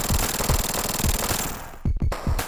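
Bomb explosions from Sonic the Hedgehog 3's Launch Base Zone, thrown by Knuckles: a dense run of rapid, loud blasts and rumbling thuds over busy game music, ending in a few separate booms.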